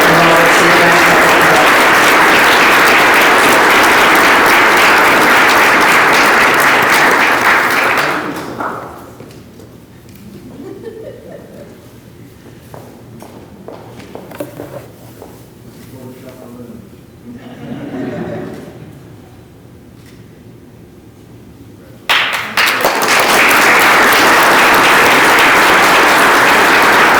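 Loud audience applause at a military airlift wing awards gala fills the room, breaks off into a quieter stretch with a voice over the sound system, then surges back strongly.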